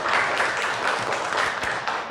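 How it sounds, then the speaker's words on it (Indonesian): A classroom of students claps for a classmate after a lesson presentation during a teacher-training session. The fairly quiet, steady patter of many hands continues for a couple of seconds with no talking. "Tepuk tangan dulu untuk Winisya."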